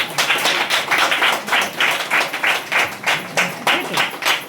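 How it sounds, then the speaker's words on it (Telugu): A church congregation at a New Year service in Bhimavaram claps loudly and steadily, many hands beating in a dense, rhythmic wash that fills the space, with voices faintly mixed in. "అందరూ చప్పట్లు గట్టి కొట్టండి."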